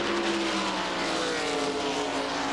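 A NASCAR stock car engine screams at about 8,800 RPM around Dover during the 2000 MBNA Platinum 400, a loud, steady, high-pitched roar with a gradually shifting tone that fills the whole moment.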